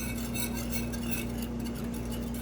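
A spoon stirs cannabis bud into milk, giving soft rhythmic scraping and swishing over a steady low background hum.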